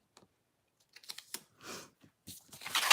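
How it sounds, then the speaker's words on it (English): Quick clicky keystrokes from a typewriter, scattered taps and short bursts of typing that grow denser and louder toward the end, close by and alone with no voices. "Oh my gosh, typewriter."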